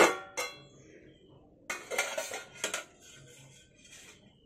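The lid comes off a pot of boiled potatoes with a sharp metallic clink, followed by a few more clattering knocks of metal on metal, close and clear over a quiet kitchen.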